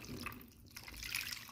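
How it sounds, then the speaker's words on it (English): Watered-down marinade broth is poured into an aluminum foil pan, a faint trickling, splashing liquid with soft drips, steady and close for a brief moment. "And then we'll be pouring that into the pan."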